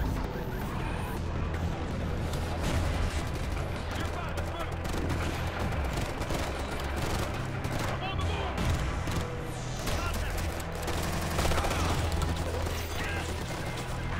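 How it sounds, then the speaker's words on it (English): Sustained automatic machine gun fire in the tactical shooter Tom Clancy's Ghost Recon, with dense rapid bursts running nearly the whole time amid crashes and other battle noise. A voice can be heard in the mix. "well that's my machine gun"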